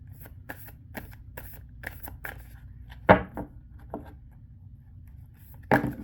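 Cards riffled and shuffled in quick crisp bursts, with a couple of sharper slaps as the deck is squared, close by and without talking.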